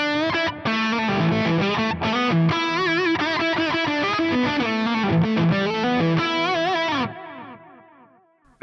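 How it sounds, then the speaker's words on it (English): Overdriven electric guitar riff run through a stereo BBD delay with a 75% left-right time ratio, steady picked notes and slides with warm repeats trailing off as the playing stops. "I'll go to the stereo BBD because that's my favorite delay"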